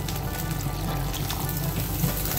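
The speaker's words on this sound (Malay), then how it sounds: "Korang masukkan air, jangan banyak-banyak sangat" Water poured steadily into a claypot of chicken with shiitake mushrooms, a continuous close splashing trickle lasting a couple of seconds with no talk over it.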